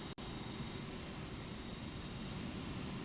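An iniBuilds A330 heavy airliner sits on the runway in Microsoft Flight Simulator 2024, a steady low engine drone with a faint high whine and one brief dropout near the start, no voices.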